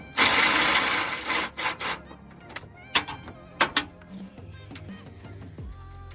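Socket wrench taking bumper bolts off a 1992 Ford F250: a loud rushing burst of metal noise for the first two seconds, then a few sharp clicks and clanks that fade to quieter tapping.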